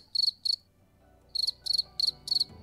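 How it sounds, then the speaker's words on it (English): A cricket chirping sound effect plays as clear, high pulsed trills in short bursts, two, then a pause, then four more in a steady rhythm. "You can stop with the crickets."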